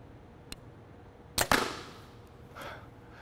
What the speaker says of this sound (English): We're going to see if the balloon can stay intact after we hit an arrow in the back.